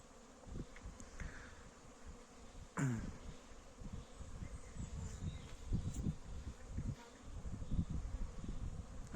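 Honeybees buzz steadily close by around hives in the open air during a cold spring, a low droning hum with brief passes of individual insects and occasional rustling.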